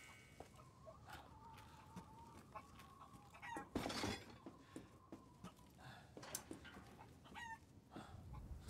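Chickens cluck in the video game Resident Evil Village, soft scattered clucks and squawks over a faint background, joined by mechanical clicks and a brief louder rustling burst near the middle.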